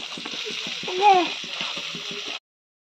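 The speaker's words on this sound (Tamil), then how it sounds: "இப்ப இந்த சாதம் எல்லாம் சேர்த்துக்கலாம்" Cooked rice for egg fried rice crackles and sizzles in a hot pan, a continuous close frying hiss with rhythmic spatula knocks, and someone speaks over it before it cuts off abruptly.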